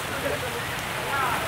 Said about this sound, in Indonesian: Hari hujan ini, Pak.